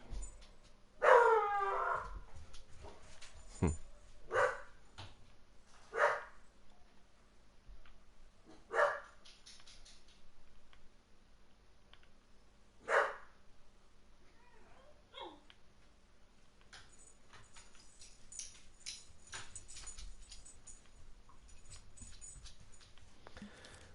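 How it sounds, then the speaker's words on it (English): Dogs bark up the street, several sharp yaps spaced over the first half, faint and distant under a quiet indoor hum. "Some dogs are barking up the street."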